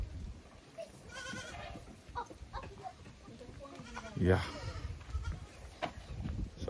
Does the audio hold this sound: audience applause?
no